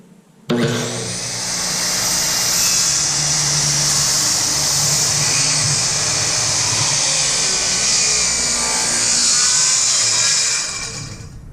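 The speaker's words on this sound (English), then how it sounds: "you want to make sure your saw is in a full RPM speed before you start cutting in" A portable circular saw (Skilsaw) cutting wood starts abruptly and holds a loud, steady high whine at full speed for about ten seconds, then winds down slightly at the end, up close with no talk.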